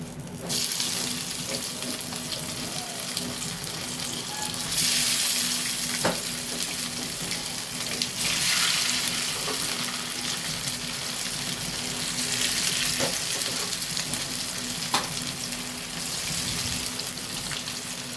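Chicken chops frying in oil, a continuous broad sizzle with a watery hiss and a low steady hum beneath, close and even for the whole stretch, without talk.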